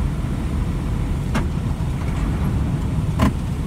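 A Nissan UD truck engine winds down during a gear change, a steady low rumble heard from inside the cab with a couple of faint clicks and no talking.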